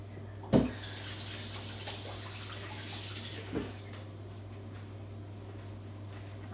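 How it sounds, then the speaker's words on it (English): Hands being washed under a running kitchen tap, a steady hiss of flowing water with a few louder splashes near the start, fairly quiet and close, with no talking. "And I'm going to wash my hands again."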